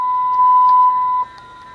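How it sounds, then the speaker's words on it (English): Electronic whine from the synthesizer logic of a 1977 Hy-Gain 16 CB radio: a steady close tone with faint periodic blips, cutting to a quieter level near the end. "That synthesizer noise you can hear is actually the logic."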